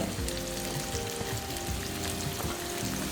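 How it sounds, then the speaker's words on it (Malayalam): Sliced onion and garlic fry in hot oil for a mutton liver dish, a loud, continuous crackling sizzle that holds steady throughout with a few light pops. "അതിലേക്ക് എണ്ണ ചൂടായി വരുമ്പോഴത്തേക്ക് നമ്മുടെ സാധാരണ പോലെ സവോള ഇടുക"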